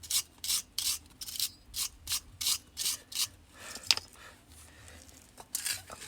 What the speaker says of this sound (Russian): Также чистим колодки в местах соприкосновения с суппортом крепления.